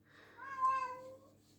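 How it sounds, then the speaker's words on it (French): A cat gives a single drawn-out meow, clear and fairly close, rising then trailing off in a quiet room. "il y en a un qui communique avec nous actuellement par miaulement"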